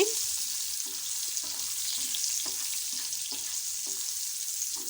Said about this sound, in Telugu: ఇప్పుడు అదే ఆయిల్లో కాసిన్ని ఉల్లిపాయ ముక్కలు వేసి ఫ్రై చేసుకొని